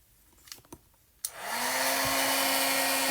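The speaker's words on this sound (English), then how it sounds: "I've got my heat tool here ready to go, and I'm just going to turn it on" A few soft clicks and handling knocks come first, then a handheld craft heat tool used for embossing switches on with a sharp click. It settles into a loud, steady whoosh of hot air with a faint motor whine.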